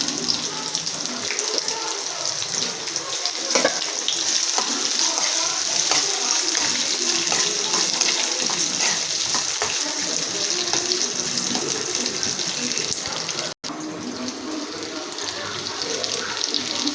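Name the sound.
onions frying in a pan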